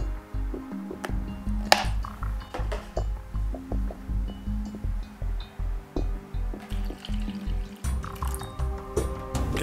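Water from a small hole in a reservoir container falls as a stream in rapid regular pulses, a close dripping and splashing patter of drops that keeps up a steady rhythm for the whole stretch.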